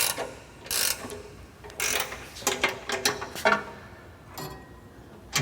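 A ratchet wrench tightening the table bolt on an 18|CX bandsaw, heard as several close, bursty clicking runs separated by short pauses, with no talk.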